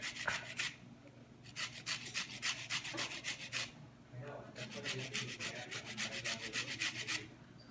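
Lemon zest being grated, a run of repeated rasping strokes in three bursts with short pauses, close and fairly quiet, no talking.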